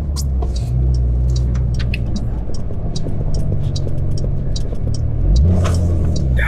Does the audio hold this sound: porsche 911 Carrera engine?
yes